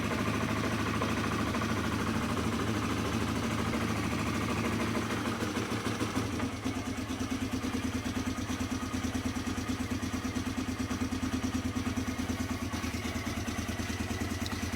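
A Polaris Hawkeye 4x4 ATV engine catches and settles into a steady, close, rhythmic idle, its loud chugging putter continuing throughout with no talk.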